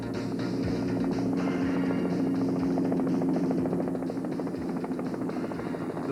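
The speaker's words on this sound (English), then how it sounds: "put their patrol helicopter in the air to check for any visible signs of damage to the high-pressure natural gas main" Patrol helicopter of a natural gas company flying after the 1989 Newcastle earthquake, a steady continuous rotor drone and whine holding at even loudness throughout, with no talk.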